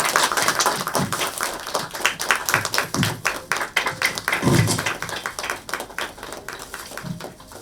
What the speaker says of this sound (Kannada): ಜೋರಾಗಿ ಚಪ್ಪಾಳೆ